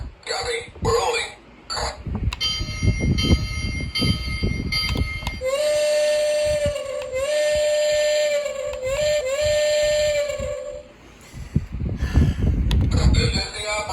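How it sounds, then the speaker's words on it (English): Whistle and bell sounds from a Lionel LionChief 2-4-2 Pennsylvania Railroad Hudson toy train, a long steady whistle tone sounding loudly for several seconds amid shorter bursts, with operator voice phrases played back before and after. "Let's play all the phrases, bells, and whistles. They're the exact same as the Keystone, except the whistle has a different tone."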